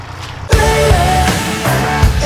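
A tractor engine at a woodcutting site in Haute-Marne catches after a moment of quiet and then runs loudly and steadily close by, with a rough, throbbing idle.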